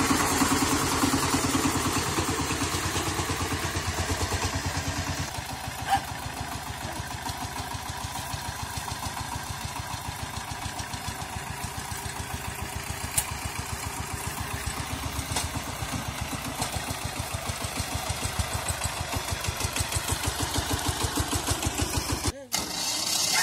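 A walk-behind tractor fitted with a potato-digging adapter runs steadily in a field, its engine chugging in a continuous mid-pitched drone for the whole stretch, with a brief clunk near the end.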